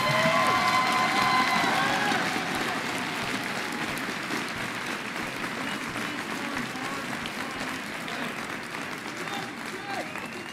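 A crowd applauds steadily, loudest at the start and then settling into a sustained, dense patter of clapping with faint voices mixed in.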